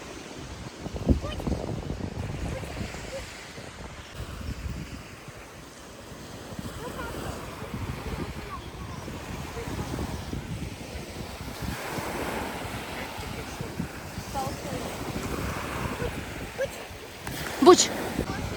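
Sea waves wash onto a beach while wind buffets the microphone, a low, steady rumble with gusts, as people talk nearby.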